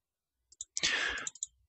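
A computer mouse clicks a few times in quick succession, sharp close clicks with a brief burst of rustle in between, in an otherwise quiet room.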